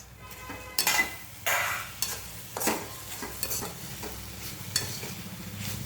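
Grated bitter gourd cooking in a pan is stirred with a utensil, irregular scraping strokes and occasional metal knocks over a low, continuous sizzle, close up with no talking.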